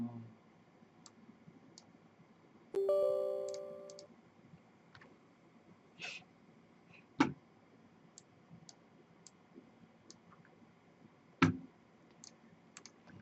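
Sparse keyboard clicks as a name is typed into a computer search box, quiet and close, with a brief tonal chime partway through.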